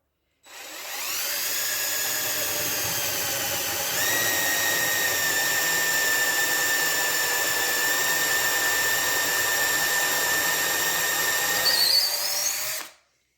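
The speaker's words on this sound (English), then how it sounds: "now I'm ready to drill. Drill straight through." A power drill bores straight through wood for an acoustic guitar rosette inlay, whining steadily for about twelve seconds, its pitch stepping up slightly partway through, loud and close with no talking.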